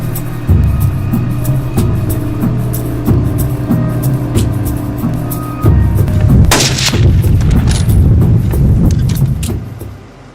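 A single loud rifle shot cracks out midway through varmint hunting, standing out sharply over a steady background hum and rumble.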